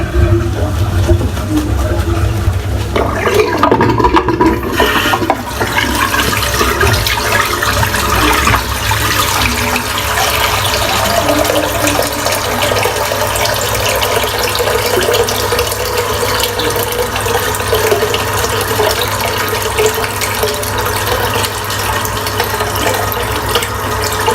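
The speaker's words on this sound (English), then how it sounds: "I'm just going to empty the water out of the sink just now while I'm lathering" Water drains steadily out of a bathroom sink during a wet shave, a loud continuous rushing and gurgling that runs unbroken from start to finish with no talking.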